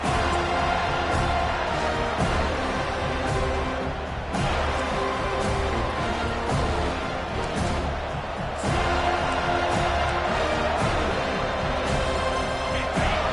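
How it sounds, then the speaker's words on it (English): A home crowd roars throughout a college football video game, Florida State versus UCLA, a dense continuous cheer that swells in waves on third down, loud and unbroken with no clear talk. "Here comes this home crowd as the defense tries to get off the field on 3rd down"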